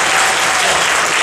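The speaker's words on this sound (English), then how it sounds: "Let's give that a round of applause." Audience at a business club panel event applauding, a dense steady wash of clapping hands filling the whole stretch, loud and continuous with no gaps.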